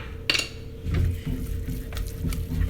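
Cream puff dough being stirred in a pot, with a spoon scraping and clinking against the metal in close, steady strokes, plus a sharp clatter near the start and a few more light knocks.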